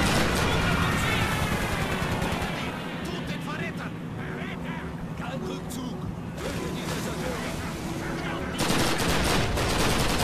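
Gunfire crackles steadily in a Call of Duty battle near Stalingrad, dense overlapping rifle and machine-gun shots that dip slightly midway then swell again, while someone talks over the din.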